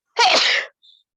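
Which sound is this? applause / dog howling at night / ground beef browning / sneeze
sneeze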